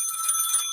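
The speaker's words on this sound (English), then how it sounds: "Phone's ringing. We should pick that up." Electronic telephone ring on a radio show, a bright high-pitched trilling tone held steady for under a second with no talk over it.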